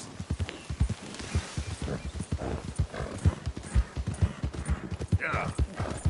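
In a PS4 video game, a horse's hooves clop in a rhythmic, close pattern with a whinny mixed in, and a brief voice can be heard over the hoofbeats.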